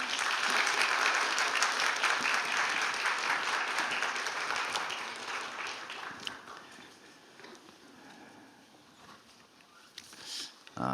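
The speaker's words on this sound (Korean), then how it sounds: "우리 큰 박수로 격려해 주세요" A church congregation applauding during a Christmas Sunday service, a full, even roar of clapping that gradually tapers off, leaving a quieter room with a few scattered sounds near the end.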